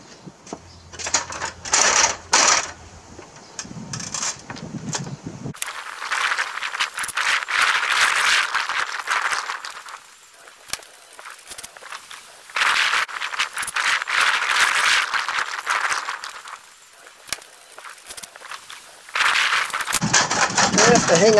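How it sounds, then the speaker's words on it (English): A ratchet with a 10 mm deep socket works loose a roof rack nut on a Ford Explorer, giving bursts of fast clicking ratchet rattle that stop and restart, with someone talking in between. "So next thing, 10 millimeter deep, gonna unbolt her."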